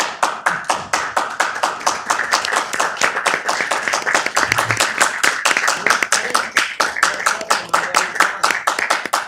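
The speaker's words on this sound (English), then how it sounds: "giving you a round of applause" Applause from the room at a Downey city council meeting, a steady patter of many hands clapping close by for the full stretch, with no talk over it.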